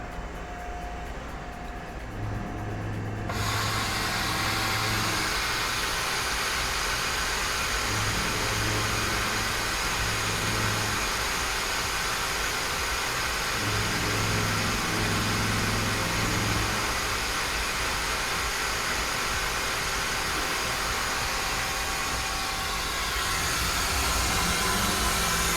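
A Mazak CNC machine running a Mazatrol Smooth G engraving job with a center drill gives a loud, continuous hiss over a droning machine hum, with intermittent low tones pulsing through.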